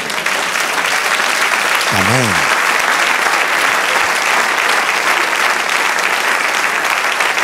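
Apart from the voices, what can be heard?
congregation applause in church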